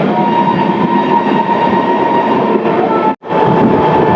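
The Haridwar–Amritsar Jan Shatabdi passenger train rolls along with a steady loud rumble and faint wheel clatter, heard from on board, interrupted by a brief sudden dip near the end before the roar resumes.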